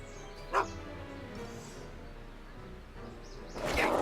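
A dog in an animated cartoon gives a single sharp yip or bark early on, followed by a louder burst of barking or scuffling near the end, heard over background music and effects.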